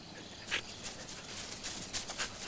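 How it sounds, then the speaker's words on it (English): A dog gives a few short, soft whimpering yelps and scuffles at moderate distance in a noisy outdoor scene from a Korean War film. "Where's that dog come from?"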